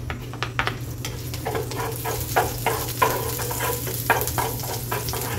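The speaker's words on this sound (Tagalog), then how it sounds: "So, na may kunting mantika, ilalagay na natin ang ating bawang." Garlic frying in a little oil for an egg and bitter gourd breakfast, a close, steady sizzle with a constant hiss, punctuated by the scrape and clatter of stirring.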